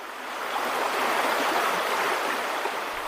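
River Severn water rushing and churning near the bank around midnight, a steady broadband flow that swells slightly and holds without pause, no voices.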